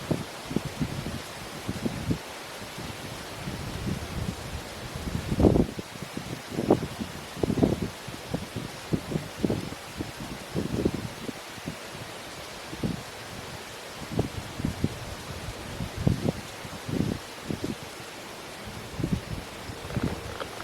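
Gusty wind blows through the woods at a camp stove, with bursts of rustling and buffeting against the microphone rising and fading in irregular waves over a steady hiss.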